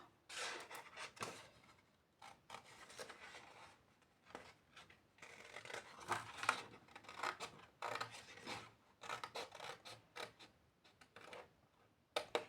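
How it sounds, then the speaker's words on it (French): Scissors snipping through paper during a craft project, a series of quiet, irregular crisp cuts and rasps spread across the whole stretch with no talking. "ce ciseau il est dur."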